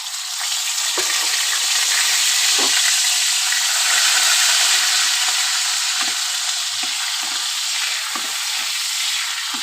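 Two large garlic cloves and shrimp fry in oil tempered with radhuni spice, producing a loud, continuous, close-up sizzle that holds steady from start to finish with faint crackles underneath.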